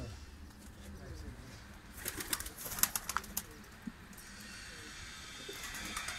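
Diyarbakir white pigeons coo softly and beat their wings in short bursts of flapping, with a faint background voice now and then.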